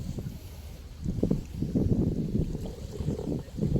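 Wind buffeting the microphone in low rumbling gusts, rising and falling steadily outdoors near water at night while fishing, with no talking.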